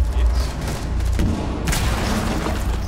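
MP5 submachine gun fire in the video game Rainbow Six Siege, dense rapid bursts of loud shots overlapping with booms and impacts, with voices underneath.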